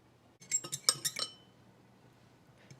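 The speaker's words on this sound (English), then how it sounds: "before we actually add it to that, we will give it another stir" A spoon stirring a mix of water and cornstarch in a glass gives a quick run of bright clinks against the glass, then stops, close and faint.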